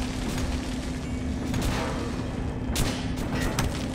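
Gunshots at a shooting range in the video game Metro: Last Light, a dense run of booming shots and clattering reports layered over steady background noise, with a few sharper bursts near the end.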